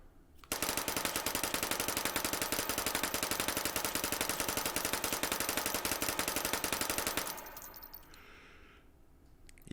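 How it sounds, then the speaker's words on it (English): A homemade cursed firearm fires in Hot Dogs Horseshoes & Hand Grenades: one loud, rapid automatic burst of tiny rounds rattles nonstop for about seven seconds, then cuts off and leaves faint mechanical clicks and rustling. "But either way, it's a homemade cursed firearm."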